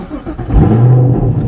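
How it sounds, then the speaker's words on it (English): A manual transmission car engine catches and starts up in neutral, with a short low rumble that rises into a steady idle close by. "Usually I'll have it on neutral and I'll turn on my car."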